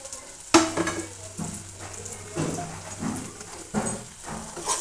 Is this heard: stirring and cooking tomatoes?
yes